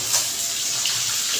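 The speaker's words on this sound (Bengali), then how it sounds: "সামান্য একটু জল দেবো, জলটা গরম করাই আছে।" Hot water pours steadily into a cooking pan holding pumpkin and fried fish, a continuous close splashing stream with no voices.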